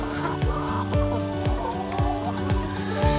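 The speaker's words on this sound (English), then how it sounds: "Living their best little chicken lives." Chickens cluck in their two large backyard pens in rural Thailand, repeated short clucks in an uneven rhythm over a steady background hum.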